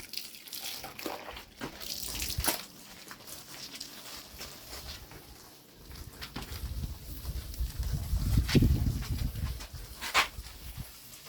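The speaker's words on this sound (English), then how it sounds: "Wash with soap and water." Water runs and splashes while a varnished boat surface is washed down with soap and water, with a gurgling surge building midway, plus scattered knocks and faint background noise.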